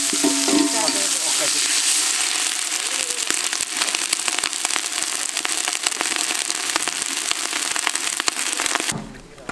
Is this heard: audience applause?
no